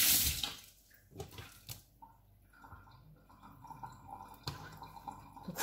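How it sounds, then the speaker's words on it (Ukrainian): Water trickles and gurgles quietly with scattered drips and splashes, close by and fairly faint. "Вода зливає."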